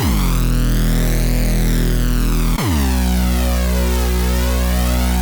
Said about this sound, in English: You could even try setting this to a flanger instead of a phaser.